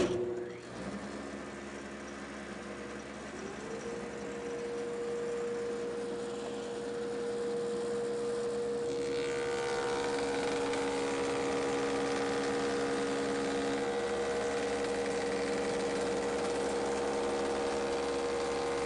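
A Woodmaster molder planer with a single knife in the planer head runs while machining curved molding, a steady mechanical hum and whine that climbs in intensity partway through and holds there, close and loud, with no talking.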